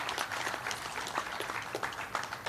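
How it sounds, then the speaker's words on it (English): Applause for a Ministry of Health team at the launch of Kenya's universal health coverage programme, a faint, dense patter of clapping from a distant crowd. "please give them a lot of applause."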